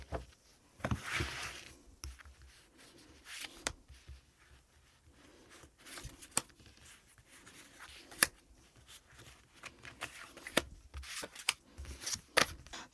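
Tarot cards being shuffled and drawn by hand, with soft riffling, rubbing and sharp little slaps scattered irregularly at close range, with no voices.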